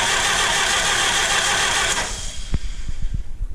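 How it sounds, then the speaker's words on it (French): A starter motor cranks steadily on an engine that never catches because its propane supply is shut off; the loud, continuous grinding churn stops abruptly about two seconds in, followed by a few faint clicks and knocks. "le moteur n'a pas parti parce que le propane n'était pas ouvert"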